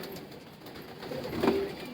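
A soft coo from racing homer pigeons rises briefly over a steady low background hum, faint and somewhat distant.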